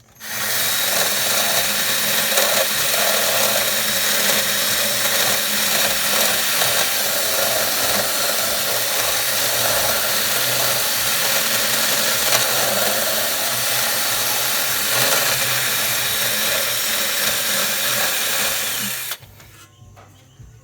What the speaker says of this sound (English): But I'm gonna drill more, so just watch and see.